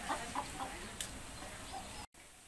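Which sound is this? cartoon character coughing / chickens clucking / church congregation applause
chickens clucking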